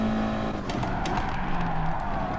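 A race car in a racing video game brakes late into a corner, its steady engine drone carrying a tonal tire squeal as it skids, loud and continuous for a couple of seconds without voices.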